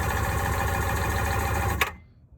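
A cheap used Sea-Doo jet ski engine cranks over on a weak battery, a rapid steady chugging whir for almost two seconds that stops abruptly with a click and falls quiet.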